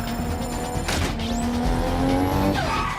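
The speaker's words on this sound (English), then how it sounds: "BMW sideswipes Dom." A BMW sideswipes another car during a street race, with a steady engine roar, tires squealing in rising and sliding tones, and a sharp impact burst partway through, loud and close throughout.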